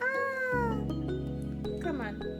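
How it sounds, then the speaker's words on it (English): A pet cat lets out a drawn-out, rising meow, followed by a short voice and then a second, higher meow, all close by over a low background hum. "That's my cat. She woke up."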